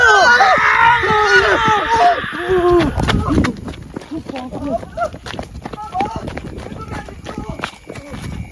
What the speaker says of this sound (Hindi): भयानक चीख। आपने भी वही चीख सुनी कि नहीं सुनी?